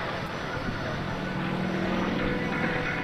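Engine drone of a Sukhoi Su-26 aerobatic airplane as it pulls over the top of a manoeuvre at the 2003 Dayton airshow, a steady, fairly loud propeller roar held throughout with a faint voice over the public address.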